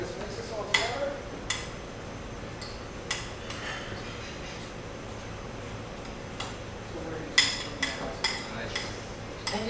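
A spoon stirs salt, pepper, oregano, parsley and basil together in a bowl, soft scraping with a few sharp clinks against the side, close and moderately quiet.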